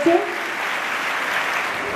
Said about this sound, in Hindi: एक बार जोरदार तालियां बजा दीजिए बच्चे।